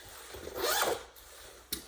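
A zipper is drawn along a sewn fabric case: one quick, rasping pull lasting about half a second, then a brief sharp tick near the end, close and moderately loud in a quiet room.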